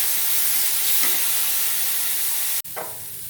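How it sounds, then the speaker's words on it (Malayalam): Ground gooseberry and green chili paste sautéing in a pan gives a dense, loud, continuous sizzle with faint stirring scrapes and one sharp sudden dropout near the end before the frying hiss resumes, with no voices. "അതിൻ്റെ കൂടെ നമ്മളിത് അരച്ച് വെച്ച നെല്ലിക്കയും പച്ചമുളകും കൂടെ എടുത്ത് നല്ല ഒന്ന് അതിൻ്റെ പച്ച വാസന പോകാതെ ഒന്ന് വഴറ്റണം"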